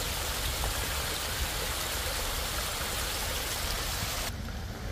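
A waterfall gives a steady, dense rush of flowing water, close and continuous throughout with no breaks.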